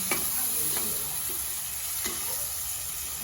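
Onions fry in a pan toward golden, producing a steady close sizzle with a few light stirring scrapes and taps, no voices present.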